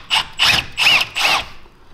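An Allen wrench ratchets out a brake caliper bolt on an Argo 8x8 Magnum during a brake caliper rebuild: four loud, close, evenly spaced bursts of rapid clicking, each about a quarter second long, with no talking.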